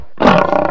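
A switched-on toy lion lets out a single loud, harsh roar that starts abruptly after a brief silence and holds for under a second, with no other sound.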